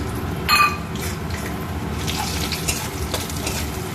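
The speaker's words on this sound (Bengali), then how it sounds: "এই তেলের মধ্যে দিয়ে দিচ্ছি তেজপাতা দুটো আর শুকনো লঙ্কা আর গোটা জিরে এক চামচ" Bay leaves, dried red chillies and whole cumin hit hot frying oil left from fish heads and prawns, giving a steady close sizzle with a brief louder crackle near the start, and no talking.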